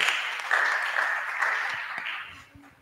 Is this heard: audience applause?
yes